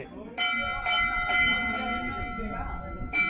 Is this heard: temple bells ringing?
yes